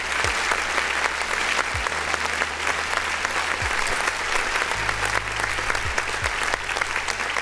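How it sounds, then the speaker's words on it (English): Sustained applause from an audience during a live online music review show for underground artists, steady dense clapping filling the whole stretch with a low hum underneath. "Let's go ahead and give a clap to that."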